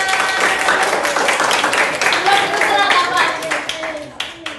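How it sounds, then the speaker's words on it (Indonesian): A class of students at a school project session claps together after a Quran recitation, a loud, dense clatter mixed with overlapping children's voices, fading out at the end. "Boleh tepuk tangan semuanya."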